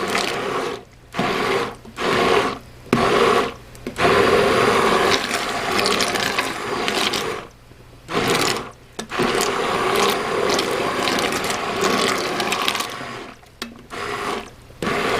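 An immersion blender whirs in loud bursts through pineapple jam, starting and stopping repeatedly with short pauses between runs, thick mixture churning.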